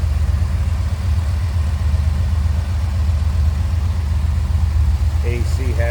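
A 1984 Chevrolet Corvette Z51 engine idles in a steady low rumble, close and even throughout, with a few faint voice sounds near the end.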